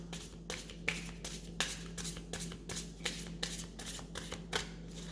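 Playing cards, likely a tarot-style deck, are shuffled by hand in a steady run of about a dozen crisp, evenly spaced riffling bursts, close and clear with no talking.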